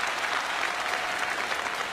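A seated audience at a quiz event applauds steadily to welcome a regional director onto the stage, a dense, even wash of clapping with no break.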